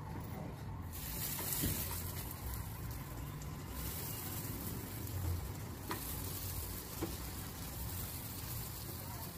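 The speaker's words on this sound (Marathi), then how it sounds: "आता ह्या टिक्क्या आपण सर्व शालो फ्राय करायला घेऊया।" Tikkis shallow fry in a pan with a steady, dense sizzle and crackle, close and even throughout with no talking.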